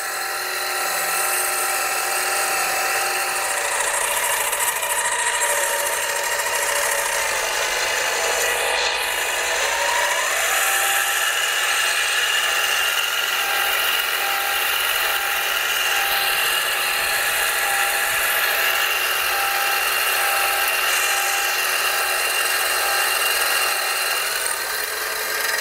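A mini lathe on automatic feed makes a roughing pass on metal, giving a continuous high-pitched motor whine and cutting hiss that stays steady and close for the whole stretch, with no talk.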